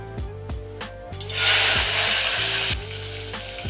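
Chopped tomatoes drop into hot oil in a cooking pot, setting off a loud, sudden surge of sizzling that stays steady, following several rhythmic knocks and scrapes.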